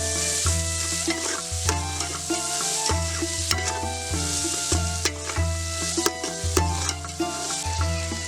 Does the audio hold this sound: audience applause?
no